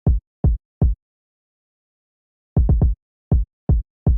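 Punchy kick drum sample in an FL Studio R&B beat, thumping alone in a pattern of three evenly spaced hits, a pause, then a quick triple and three more steady hits.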